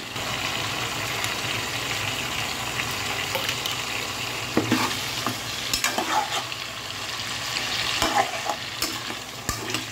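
Chicken akhni masala with whisked yogurt and ground nutmeg sautéing in a pot, a steady frying hiss with repeated scraping stir strokes and clinks of the spoon, close and fairly loud, no voices.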